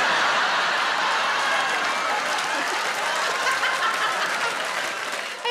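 A comedy-show audience at a stand-up gig claps and cheers steadily, a dense wash of applause with a woman's cheer and some laughter mixed in, sustained for several seconds.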